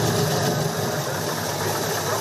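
A classic American car's engine idles at an outdoor car show, giving a steady, close, broadband rumble that holds constant through the clip with no speech over it.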